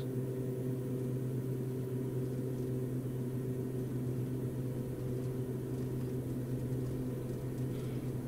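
Beechcraft B1900D turboprop engines throttling up for takeoff in X-Plane 11: a steady, loud droning hum with strong low tonal bands, continuous and even throughout, no talking.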